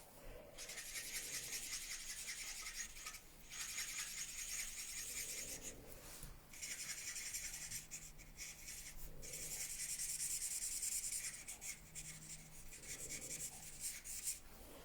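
Light saffron ink rubbed across paper in a scrapbooking project: soft, continuous scratchy rubbing strokes, faint and close, rising and falling in repeated passes.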